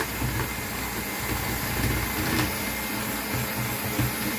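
An electric mixer whips an orange glaze made with gelatin and no egg white in a home kitchen, giving a steady, unbroken motor whir with faint clatter beneath it.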